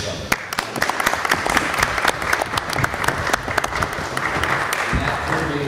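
A small group at a county board of education meeting applauds the school board, with sharp individual claps standing out over a steady patter that stays fairly close throughout.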